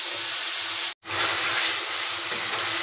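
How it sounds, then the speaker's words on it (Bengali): Ground spice paste fries in hot oil seasoned with bay leaf, cumin and cinnamon over medium heat, a loud steady sizzle and hiss with a brief cut in the middle and faint stirring beneath. "মশলা একটু ভেজে নেব"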